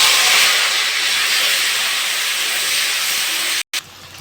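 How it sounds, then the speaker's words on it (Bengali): Fish frying in hot mustard oil in a pan, a loud, steady broadband sizzle and hiss that holds evenly throughout with a brief cut near the end. "তেলটা গরম হয়ে গেছে, মাছগুলো ভেজে নেব।"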